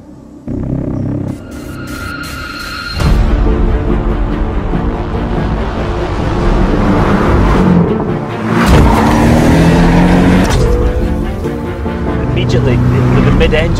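Porsche 718 Boxster GTS or Cayman GTS, a mid-engine sports car, starts to accelerate, giving a loud, sustained engine rumble that rises and falls through the gears; a voice talks over it early on.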